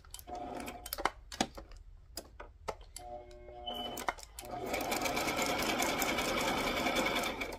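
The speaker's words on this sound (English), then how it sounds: "Let's sew and see what it looks like." A sewing machine stitches a small cupcake-liner pocket. Scattered clicks and ticks of setting up the fabric come first, then a steady, close, rapid mechanical whirr of stitching runs to the end.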